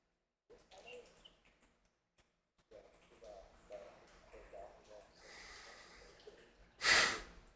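A voice imitates the heavy snoring of Balthazar, a character in a Dungeons & Dragons session, ending in one loud, harsh snort after stretches of breathy, murmuring vocal noise.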